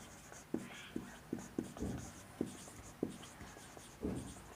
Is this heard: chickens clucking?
no